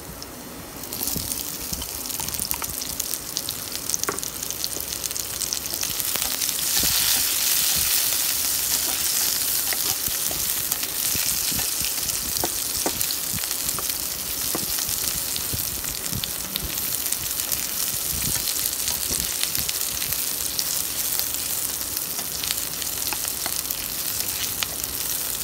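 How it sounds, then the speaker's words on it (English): Onion frying in a pan for Filipino chicken adobo, a steady close sizzle that swells into a louder hiss after the onion goes in, with occasional stirring scrapes and no talking. "Now we put onion."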